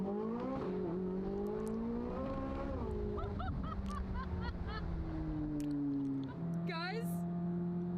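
A Corvette Z06 in track mode pulls hard, its engine note rising and shifting through gears in a loud, continuous drone, with people talking over it inside the car.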